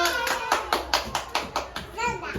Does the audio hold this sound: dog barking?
no